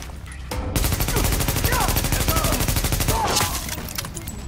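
Sustained automatic gunfire rattles through a firefight in The Division set in Brooklyn, loud rapid bursts running for several seconds after a quiet lead-in, with faint voices shouting in the background.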